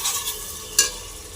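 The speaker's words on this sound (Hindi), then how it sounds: "इधर लगा दिया है ये मैंने तड़का, मतलब भून लिया है" Tempering for yellow rice with peas sizzles softly in a pan while being stirred, with a brief sharper scrape of the spoon partway through.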